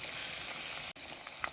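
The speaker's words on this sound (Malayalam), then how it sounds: "നല്ല എണ്ണയിലാണ് ഇത് വറുത്തെടുക്കുന്നത്." Fish sizzles steadily in hot oil while being fried for fish pickle, a dense, continuous crackle that cuts out for an instant midway and then resumes, with no voices.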